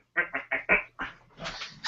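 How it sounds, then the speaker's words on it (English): A duck quacks about eight times in quick, uneven bursts, close and fairly loud, with short gaps between calls and no talking over it. "Paul's got a duck that's just dancing on his like shoulder."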